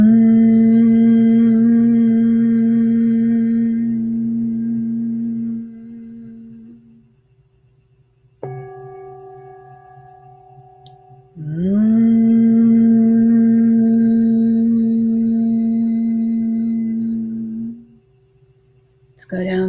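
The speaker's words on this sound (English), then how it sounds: "Let's allow our chest to hum." A group hums together from the chest, producing steady low sustained tones in long held phrases with a short pause and a fresh swell midway, loud and close with no talking.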